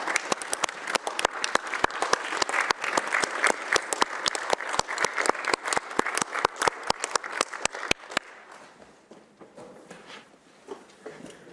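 County commission meeting audience applauding new members, dense clapping cut through by one person's loud, evenly spaced claps, ending abruptly after about eight seconds into quiet room noise and faint voices.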